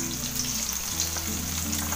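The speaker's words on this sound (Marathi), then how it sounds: "आता ही भेंडी बघा आपली एक बाजू छानपैकी परतून झालंय." Okra frying crisp in oil in a pan, a steady close sizzle running the whole time, with low tonal hum underneath and no talking.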